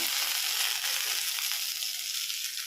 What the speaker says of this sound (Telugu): పుదీనా వేసి 2 మినిట్స్ ఫ్రై చేసుకోవాలి